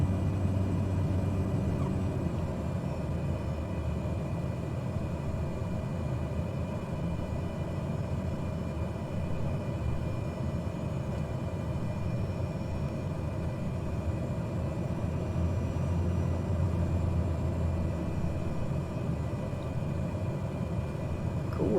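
Bush plane on landing approach to a hilltop strip in Papua in Microsoft Flight Simulator, a steady, even engine drone with cabin rumble, continuous and unbroken with no talk.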